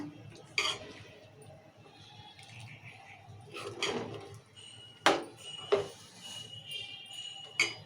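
Mutton curry with masala being stirred in a pot, giving a few close, sharp clinks and scrapes of a utensil against the metal, spaced irregularly over a low kitchen background.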